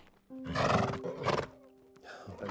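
A horse whinnies twice in quick succession, shrill and fairly close, the second call shorter, with a quieter rustle trailing after.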